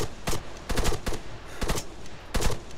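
Sharp gunshots crack in a handful of short bursts, two or three quick rounds each, separated by brief pauses, during a police shootout in the military game Arma 3.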